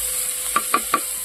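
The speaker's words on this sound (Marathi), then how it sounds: "तर पडला त्यात आता कांदा." Onion drops into hot oil for tempering, giving a steady loud sizzle, while a few sharp clinks of a utensil stirring in the pan sound near and clear over it, with no talking.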